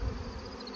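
Honey bees hum steadily around a hive during honey removal, a close, continuous low buzz lasting under a second with no voices.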